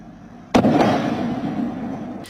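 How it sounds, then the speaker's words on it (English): A single loud boom heard overnight on the west side of Port Arthur, a sudden distant blast that rolls and rumbles for nearly two seconds before fading. "a big boom overnight rocked the west side of Port Arthur"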